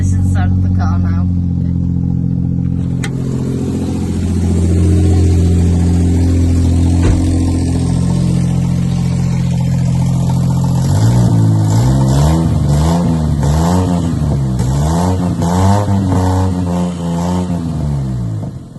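A car engine idles loudly with a newly fitted exhaust after the pipe was welded back, then is revved repeatedly in rising and falling surges close by.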